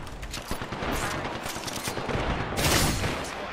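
Rapid bursts of gunfire in the battle royale video game Apex Legends rattle loud and close, with clustered shots swelling and fading over a few seconds.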